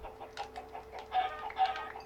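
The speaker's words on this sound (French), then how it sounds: "Ah, les poulets." Chickens in the video game Minecraft give a few short, soft clucks in quick succession, quiet and close, with no voices over them.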